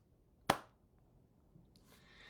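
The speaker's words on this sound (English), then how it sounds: "He claps his hands." A single sharp handclap rings out once, close and crisp, in an otherwise quiet room, followed by faint rustling.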